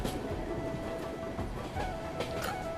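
An Indian Railways train runs along the track through the hills of Mizoram in North East India, a steady rumble with rhythmic clickety-clack of wheels and a faint high whine, heard from on board.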